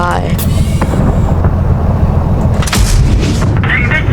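Tank cannons fire in World of Tanks with heavy booms and rumbling blasts layered over continuous battle noise, loud and dense throughout, while a voice talks over it.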